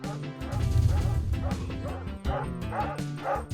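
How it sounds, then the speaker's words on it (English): A pack of video game dogs barks and whimpers in rapid, overlapping bursts, loud and close against a continuous game soundscape. "Of course, the barking dogs."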